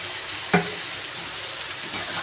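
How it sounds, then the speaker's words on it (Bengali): A little water splashes into a pan of prawn and potato curry with one short burst near the start, followed by a continuous close hiss and sizzle. "এবার হালকা আমি একটু জল ব্যবহার করব"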